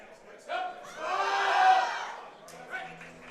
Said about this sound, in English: hearing the crowd get behind them always